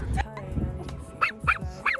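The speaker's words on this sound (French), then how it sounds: "Le chien il devient fou." An excited dog barks and yips several times in quick bursts, fairly close and loud, mixed with people talking in the room.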